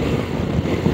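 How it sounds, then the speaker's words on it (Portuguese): A 2022 CFMOTO 800MT motorcycle engine and exhaust at full operating temperature roar in a loud, steady, close drone. "até gosto mais da sonoridade deste escape ou deste motor"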